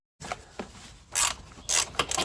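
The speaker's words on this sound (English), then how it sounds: "We are going to loosen the fuse box. There is a screw here and another one behind, both with 10mm socket." A 10mm socket wrench loosens the fuse box screws on a Mini Cooper S R53. It gives a few close clicks followed by two louder bursts of rapid ratcheting.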